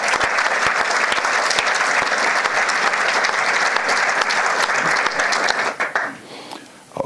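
Loud, dense applause from an audience at the opening ceremony of a makeathon event, steady for about six seconds before thinning out and fading near the end.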